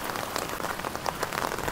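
Steady early-morning monsoon rain in Surat, dense drops pattering on surfaces in a constant hiss, close and even, with no talk.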